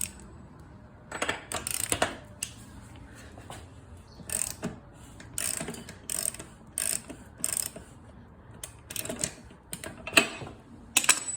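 A wrench ratchets and clanks while breaking loose the 36 mm rear axle nut on a 2013 Suzuki GSXR 1000, giving close, irregular bursts of metallic clicking and knocking with short pauses between.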